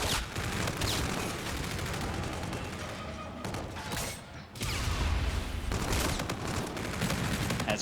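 Rapid gunfire from a Call of Duty pro league match, with dense, continuous bursts and layered shots filling the mix, a brief lull near the middle, then sustained firing again.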